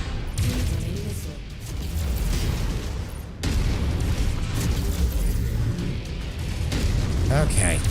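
Heavy missile blasts and booming explosions rumble through a mech combat video game battle, dense low-end bursts continuing almost throughout with a brief drop in the middle.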